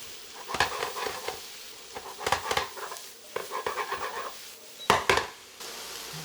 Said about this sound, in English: Saute the Brussels.